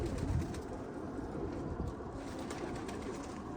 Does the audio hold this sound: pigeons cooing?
yes